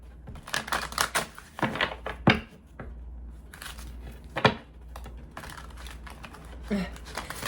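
Tarot cards are shuffled close by, with bursts of crisp riffling and sharp slaps between quieter stretches, and a voice talks at times alongside.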